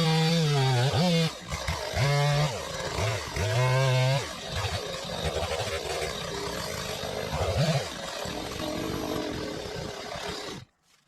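A chainsaw cuts into a cherry tree in a woodyard, the engine revving in repeated rising bursts before settling into a sustained loud cut that stops abruptly at the end.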